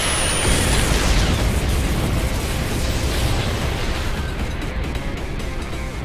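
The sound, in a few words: cannon blast explosion in video game No More Heroes 3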